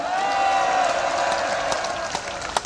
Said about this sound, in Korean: 여러분 축하의 의미로 박수 한번 같이 치겠습니다.